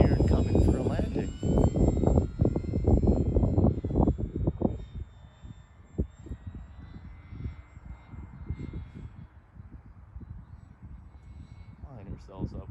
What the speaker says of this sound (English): You see that little balloon, but it seems to be flying pretty straight. Now we're on full flight here.